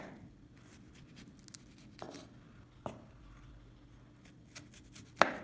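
A knife slices the stems off strawberries on a cutting board, giving a handful of quiet, crisp cuts and taps at irregular intervals, close up with no talking.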